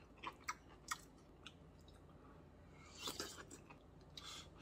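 Close, quiet chewing of food during a meal, with a few soft crunchy bites early on and a louder burst of mastication near the end, no talking.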